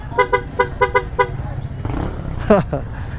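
Car horns toot in a quick series of short beeps amid a steady rumble of idling traffic in Kiko, followed by a louder blast near the end.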